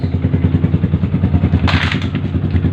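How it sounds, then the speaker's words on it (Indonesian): A Yamaha R15 motorcycle idles after long disuse, its engine putting out a loud, steady rapid thumping pulse from close range, with a brief harsher rise of exhaust noise partway through. "Udah lama nggak hidup, akhirnya hidup juga. Motor R15 super abal-abal."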